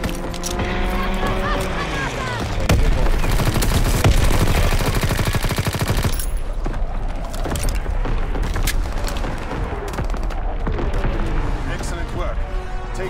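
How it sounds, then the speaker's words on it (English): Dense, rapid bursts of gunfire from an enemy aircraft's strafing run in a video game rattle loudly and almost without pause, layered over a droning background and occasional voices. "Enemy strafing run incoming."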